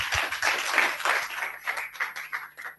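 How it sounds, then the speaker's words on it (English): A conference audience gives a round of applause after a session at a startup event. It is a full burst of many hands clapping, with distinct claps poking through the crowd sound and tapering slightly at the end. "Please give Willis a round of applause."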